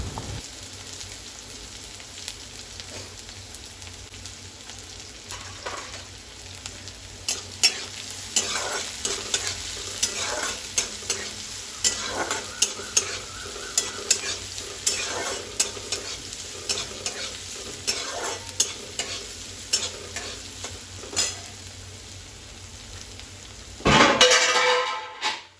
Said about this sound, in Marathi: यामध्ये मी आता चिरलेला बारीक कांदा टाकून लालसर होईल तोपर्यंत